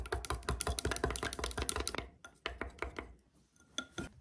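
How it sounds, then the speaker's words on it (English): Two eggs being whisked in a bowl: rapid, rhythmic clicking of utensil against bowl, close and brisk, then slowing into a few scattered taps. "Place 2 eggs in a bowl and mix them well."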